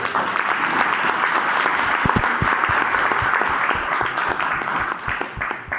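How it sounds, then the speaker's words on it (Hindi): An indoor audience at a company seminar breaks into sustained loud applause, dense clapping that continues steadily for several seconds without talk. "एक बार जोरदार तालियां बनती है सर"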